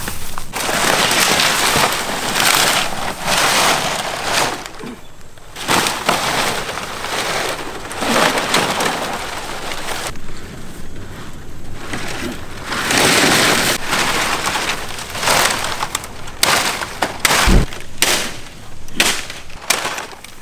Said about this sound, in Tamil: மழை இப்போ கொளுத்திடுவான்னு நினைக்கிறேன்